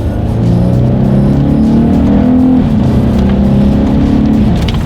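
A 2018 Lexus IS 350 F Sport accelerates in third gear, its engine a loud, close, steady drone that climbs gradually in pitch throughout, with no speech.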